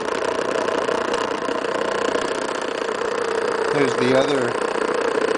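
Rodin coil sandwich motor, a spinning rotor floating on foam standoffs above the coil, whirs steadily with a continuous mid-pitched hum that briefly rises and wavers near the end, heard close under a voice.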